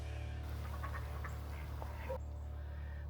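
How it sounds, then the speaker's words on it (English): Ducks quack faintly across a small lake in winter, several short calls scattered over a steady background of wind and low rumble, heard from a distance. "Lots of waterfowl."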